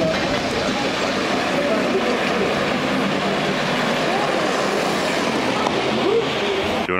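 A small train rumbles steadily along a track close by, a continuous rolling clatter with voices talking faintly underneath.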